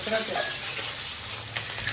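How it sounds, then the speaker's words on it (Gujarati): Black sesame, cumin and fennel seeds sizzle in hot tempering oil, a steady close crackling fry with a few stirring scrapes, no voices. "જીરું તલ કાળા તલ નાખ્યા કાળા તલ વરિયાળી વઘારી લાગી."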